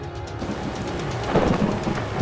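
Heavy monsoon rain pours steadily in Kheralu, Mehsana, Gujarat, with rolling thunder rumbling beneath the dense hiss and swelling louder midway through; no voices are heard.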